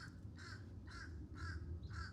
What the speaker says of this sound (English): so many birds out here today.